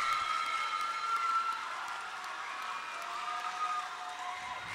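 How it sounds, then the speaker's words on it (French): Audience applause at a school awards closing ceremony, a steady wash of clapping from a large crowd that eases slightly after the first second and a half. "Applaudissez pour lui s'il vous plaît"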